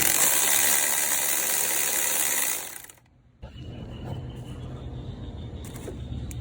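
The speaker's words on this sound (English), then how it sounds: "then I just use the electric impact 'cause it's not too hard" An electric impact wrench tightens motor mount bolts during a clutch replacement on a Honda Civic Hybrid, giving a loud, continuous mechanical whirring rattle that drops out briefly and then resumes with a lower, steady grinding hum.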